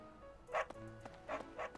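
A dog in a video game lets out a few short, sharp barks, two close together near the end, over a steady musical backdrop.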